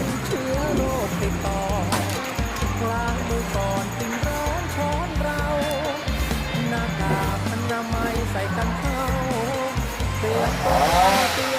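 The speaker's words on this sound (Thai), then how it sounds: "เสียงเครื่องยนต์นะ ด้านบนได้ดังขึ้นแล้ว แสดงว่ามีการ ตัดกิ่ง ของจามจุรีนะครับ" A chainsaw engine drones and revs continuously high up in a rain tree as it cuts branches, its pitch wavering, loud and fairly close, with other background noise mixed in.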